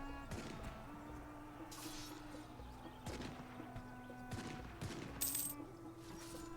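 Cannon fire in a video game sounds as a handful of separate booming blasts spaced a second or so apart over a steady low hum, with a sharp crackling burst near the end.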